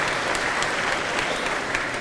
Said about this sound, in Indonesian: boleh tepuk tangan buat Gajah Mada